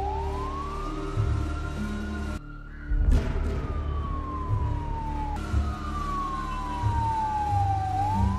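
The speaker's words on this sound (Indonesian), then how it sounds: "terdengarlah suara sirine mobil polisi" A police car siren wails in long rising and falling sweeps over low traffic rumble, cutting out briefly before starting again, fairly close and loud.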